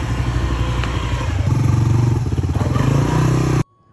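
A motorcycle engine running close by, a loud steady putter that rises in pitch as it revs and accelerates, with light clatter over it, cutting off abruptly near the end; no one speaks.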